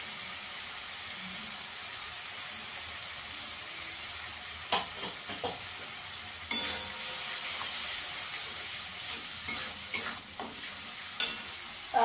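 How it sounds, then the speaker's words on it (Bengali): Masala with Kashmiri chili powder frying in a pan, a constant close sizzle and hiss with intermittent scraping strokes of a spatula stirring the spices. "ভালো করে একটু কষিয়ে নেবো মশলাটাকে।"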